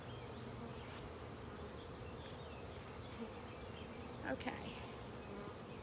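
Honey bees buzz steadily and continuously around an open hive during an inspection, with a few brief nearby passes rising above the drone. A person speaks briefly.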